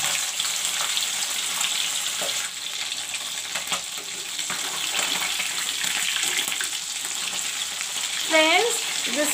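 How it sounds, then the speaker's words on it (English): Rohu fish frying in hot mustard oil gives a steady, close, dense sizzle and crackle throughout, with a few brief pops and a short chirping tone near the end; no one speaks. "Friends, the oil is turned hot. Now I will fry the fish."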